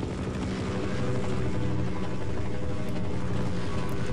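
A helicopter in the video game Half-Life drones with a dense, steady rotor and engine roar that holds loud and continuous throughout, with no talk.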